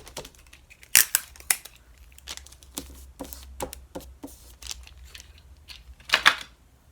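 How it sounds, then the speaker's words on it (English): Tape being pulled and torn to join sheets of newspaper for a handmade soda bag, heard as scattered sharp rips and crinkly handling sounds, fairly close and quiet with no voices. "I'm gonna tape the newspaper"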